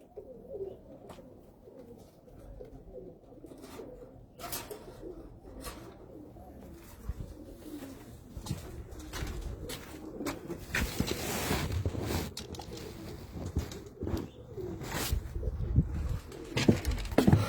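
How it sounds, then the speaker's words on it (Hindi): Pigeons cooing on a rooftop in Muscat, Oman, a large prized male beside a female: repeated soft low coos and scattered chirps, fairly near, over a background of rustling and clatter that grows busier toward the end. "ये बड़ा नंबरदार कबूतर है और साथ में मादी"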